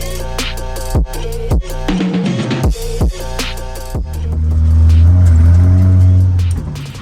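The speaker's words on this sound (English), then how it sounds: "you can hear the turbos, the intake and everything" A turbocharged 2023 Nissan 400Z engine revs hard in repeated bursts with gear shifts, turbos and intake audible, then settles into a loud, deep sustained roar close by.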